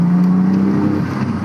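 Mitsubishi Legnum VR-4 wagon's twin-turbo engine revving hard, a loud close drone that holds a steady pitch and then shifts as the revs change, with no talk over it.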